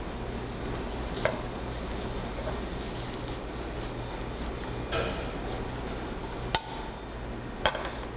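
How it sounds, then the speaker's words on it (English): Mushrooms sizzle steadily in a dry pan while being stirred, with a constant frying hiss and a few sharp clinks of tongs against the pan, no voices heard. "There's a nice stir in the pan."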